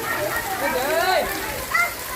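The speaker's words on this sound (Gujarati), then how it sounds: "વરસાદ હજી પણ ચાલુ છે પાછો ચાલુ થયો" Steady rain patters across surfaces in Vankaner, close and fairly loud, with floodwater filling a house, while a person talks over it.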